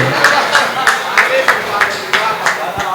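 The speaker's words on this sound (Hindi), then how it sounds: "भाई एक बार जबरदस्त ताली बजाए," Audience members at a Hindi hasya kavi sammelan clap in steady rhythmic bursts, roughly three per second, loud and close, with room murmur underneath.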